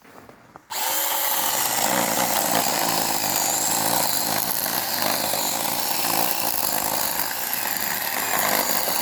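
A Bosch cordless pruner cutting through ordinary wood starts abruptly and then runs at a steady, loud, whining motor pitch, with harsh cutting noise close to the microphone and no one talking.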